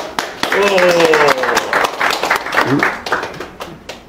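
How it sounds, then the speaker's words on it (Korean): An audience claps to welcome a character-education lecturer at a Korean members' talk event, with the applause steady and fairly loud throughout while voices talk over it. "여러분 박수로 환영해 주세요"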